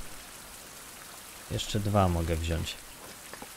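Steady rain falls throughout a survival video game scene, a soft even hiss close around, with someone briefly talking over it in the middle.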